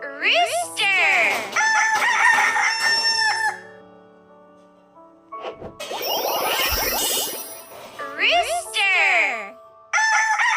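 A rooster crows loudly in a long cock-a-doodle-doo, set between bright children's voices calling out before and after, with a chime-like tone nearby.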